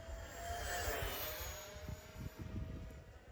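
An LS Planes MB33X model airplane flying at half throttle, its small engine droning steadily at moderate distance with a high whine that holds level, over wind noise on the mic.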